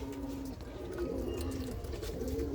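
A female pigeon that had a tumor-like growth and labored breathing gives soft, low cooing calls over a faint background murmur, steady and close.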